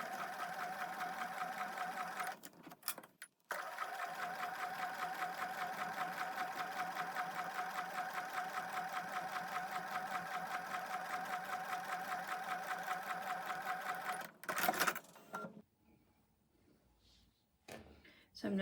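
Sewing machine stitching fabric for foundation paper piecing, a steady close whirring run lasting most of the span, broken by a few brief knocks and followed by quieter handling noises.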